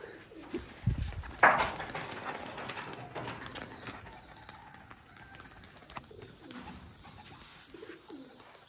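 Tumbler pigeons in Rajshahi give soft, low cooing calls nearby, with wing flaps and a few sharp bird sounds early on, then quieter repeated coos against faint background noise.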